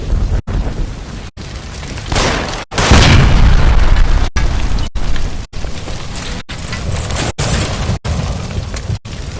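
A gas line explosion in LA Noire, a loud booming blast followed by a rumbling roar and crackling debris that continues steadily, with abrupt cuts breaking up the sound.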